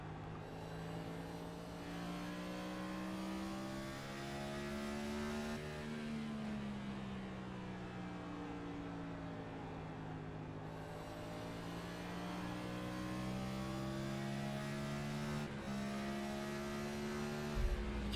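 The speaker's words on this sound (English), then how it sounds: "You can hear him grabbing 5th gear on the front stretch, throws it down into 4th" On-board sound from a Scrambler Series race car lapping Richmond Raceway: a steady droning engine note that climbs, dips with a gear change, then climbs again, loud and constant with no voices.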